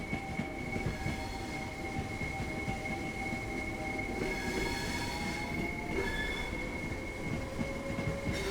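Several trains passing in the Train Sim World 3 London commuter route, a steady rumble of wheels with squealing tones and clatter, fairly quiet and without speech.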